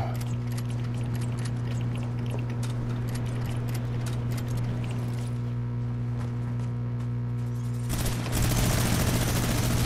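Minigun gunfire in the video game Fortnite rattles as a continuous sustained stream beneath steady game noise, then surges sharply louder and closer in a dense burst near the end.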